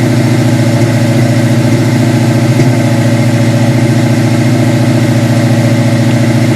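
A car engine idles steadily at about 1500 rpm, its throttle body propped open with a penny; the loud, continuous hum holds an even pulsing rhythm throughout, with no voices.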